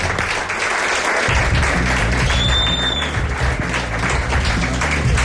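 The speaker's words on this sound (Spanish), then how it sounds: "Mi aplauso es ahora para vosotros." Applause from an audience at an outdoor book fair event in Alcalá de Henares, a steady wash of many hands clapping with a low rumbling background and a brief whistle-like tone partway through, sustained for about five seconds.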